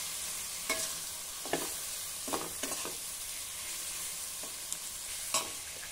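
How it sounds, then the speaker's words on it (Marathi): Tomatoes fry in a pan under a constant soft sizzle, with a spoon stirring in several scattered scraping strokes; close by and fairly quiet, with no one speaking. "2 मध्यम आकाराचे टोमॅटो घालूया, सर्व साहित्य नीट मिक्स करून घेऊ"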